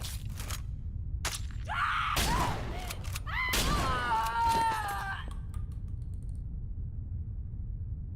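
Shotgun blasts in the horror game Nightmare of Decay, several sharp bursts with mechanical racking and clanks, mixed with groaning, creaking game sounds at close range.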